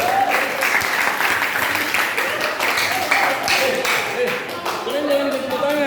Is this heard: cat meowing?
no